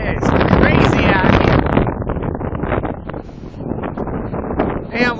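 Storm winds gusting near 60 mph batter an exposed seashore by a fishing pier, producing a loud, unbroken roar that surges hardest at the start, eases slightly, then builds once more.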